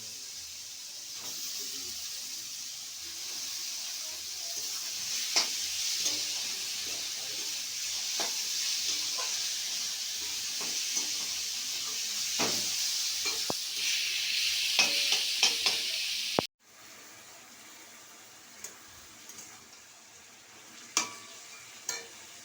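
Boiled bottle gourd goes into a frying pan with prawns and gets stirred, giving a steady sizzle with scraping clatter from the spoon, then a sudden drop to a quieter simmer with a few sharp knocks near the end.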